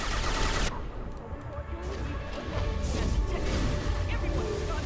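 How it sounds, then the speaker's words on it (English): Rapid gunfire and explosive impacts from a sci-fi combat sequence in the video game Mass Effect 2, dense bursts of shots and crashes filling the scene with a voice speaking in the mix. "Taking heavy fire."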